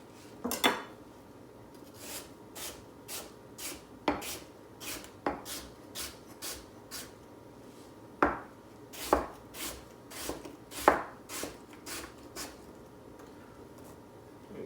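Apples being chopped into bite-sized pieces with a knife on a board, a series of crisp, irregular chops at close range with brief pauses between strokes.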